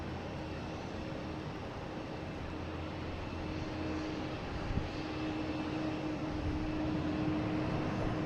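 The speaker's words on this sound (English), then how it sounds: "Here's Delta coming in from Raleigh-Durham at A319, flight 1075" A Delta Airbus A319 jet arriving at Boston Logan airport on a Friday afternoon gives a faint, distant, steady roar of engine noise that swells only slightly over several seconds.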